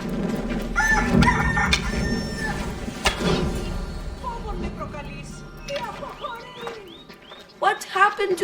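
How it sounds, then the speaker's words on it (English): A chicken clucks in Assassin's Creed Odyssey, with rapid rising clucks and squawks near the end, following game dialogue voices and ambient noise earlier on. "Now I'm going to show you how to kill a chicken."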